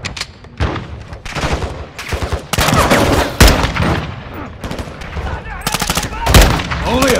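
Rapid automatic gunfire and single shots in the video game Call of Duty: Modern Warfare II, loud and near, coming in dense bursts with brief pauses over several seconds.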